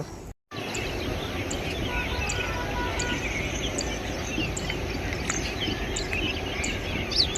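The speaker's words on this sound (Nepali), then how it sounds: "गाउँ भएपछि यतिको चराचुरुङ्गीहरूको आवाज त सुनिन्छ" Scattered high chirps and tweets from small birds sound at a distance over a steady outdoor hum, with a brief dropout near the start.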